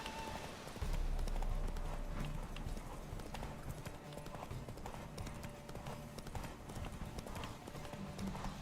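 A horse gallops in a race in The Witcher 3, its hoofbeats a fast, steady clip-clop that runs loud and unbroken throughout.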